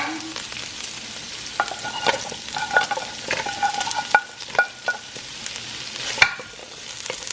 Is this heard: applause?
no